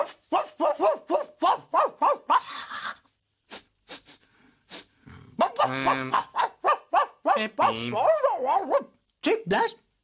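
A Sesame Street puppet character's voice imitates a barking dog with rapid rhythmic yips and woofs, followed by longer growling, whimpering howls and a few more barks, loud and close.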